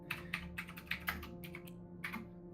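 Quiet clacking of a computer keyboard during a tabletop game session, with irregular bursts of keystrokes over a low steady background hum.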